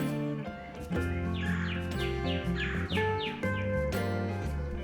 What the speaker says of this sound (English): I'm just taking a minute to listen to the birds talk to each other.